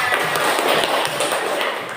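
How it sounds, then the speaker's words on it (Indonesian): A classroom of students applauds together, a continuous, fairly loud patter of many hands clapping at once. "tepuk tangan untuk kita semua"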